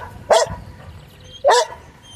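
A small dog barks at a cow on a farm: two short, sharp barks about a second apart, fairly close, with quiet rural background between them and no talk.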